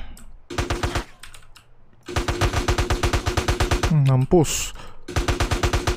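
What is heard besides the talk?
gunfire in the video game GTA San Andreas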